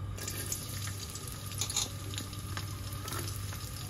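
Garlic frying in about three spoonfuls of hot oil in a kadai, a steady close sizzle and crackle with small pops and faint drips running throughout.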